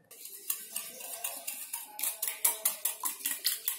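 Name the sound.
mixing egg and sugar mixture for chocolate cake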